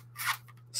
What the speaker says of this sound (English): X-Acto knife and cut out